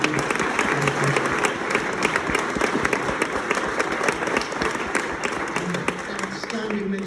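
Audience applause at a games industry talk, a dense sustained clapping that stays loud and even throughout, with a few voices murmuring underneath.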